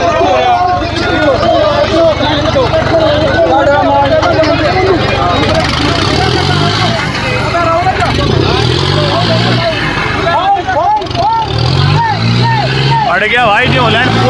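New Holland tractors strain hard against each other in a tochan tug-of-war at Sisauli, their loud, continuous engine roar churning beneath a noisy crowd and people talking throughout.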